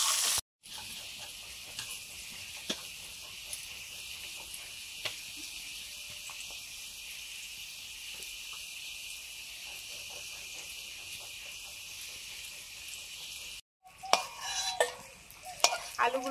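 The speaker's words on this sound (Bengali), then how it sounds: "আলুগুলো ভেজে নিচ্ছি নুন হলুদ দিয়ে।" Potatoes frying with salt and turmeric in a village kitchen, a steady quiet sizzle over most of the clip, followed by a few louder utensil clatters near the end.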